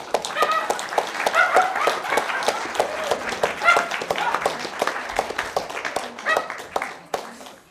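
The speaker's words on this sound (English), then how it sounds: "So it might not be a time for applause, but we can throw some in right now." A comedy show audience claps in a steady patter of applause, with a dog yipping and whimpering alongside and brief speech mixed in, moderately loud and close.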